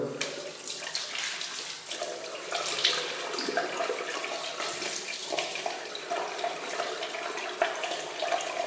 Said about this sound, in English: let's wash my face off so I don't look like I have charcoal all over it